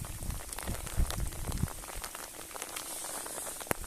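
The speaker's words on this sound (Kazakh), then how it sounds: "Бізде жаңбыр жауып тұр" Steady rain pattering on a surface outdoors near old foundations, a dense close hiss with scattered louder drops and no talking.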